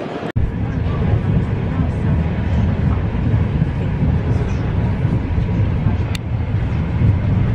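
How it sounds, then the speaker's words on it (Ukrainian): Steady rumble of a moving tram ridden toward Odesa, a loud continuous low-frequency roar with a sharp knock near the start and a brief squeal later, with voices murmuring faintly beneath. "Опять на трамвайчик."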